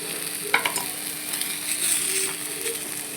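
An egg dish fries in a pan with butter, giving a low steady sizzle with a few light clicks and scrapes from turning the food, close and fairly quiet.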